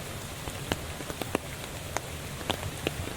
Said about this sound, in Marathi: किती पाऊस आपल्या कोकणात पडता तो